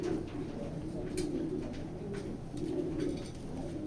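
A racing pigeon coos in soft, low, rolling bursts, close by and fairly faint, with a quiet background hiss.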